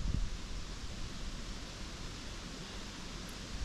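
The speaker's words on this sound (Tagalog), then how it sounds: "Malakas talaga yung hangin, pre." Strong wind blows outdoors in a steady, broad rushing roar with gusty buffeting against the microphone, strongest at the start and end, with no voices heard.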